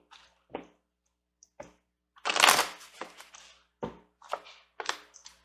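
Tarot cards handled and shuffled close up, a few soft flicks and taps, then a brief riffling burst followed by scattered card slaps and quiet gaps.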